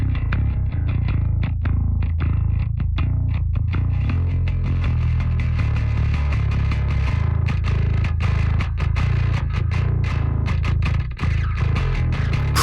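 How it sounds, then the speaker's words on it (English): Heavily distorted bass guitar, driven by Decapitator and Omega plugins, plays a continuous gritty riff with thick, saturated low end and rhythmic picked attacks, loud and dense throughout. "Bass Cab's got Decapitator and Omega on it, both driving the sound into distortion."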